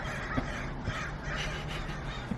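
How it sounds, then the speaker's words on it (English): Crows caw a few times at a distance, short harsh calls spaced apart over a steady background hum, faint and without talk. "The crows."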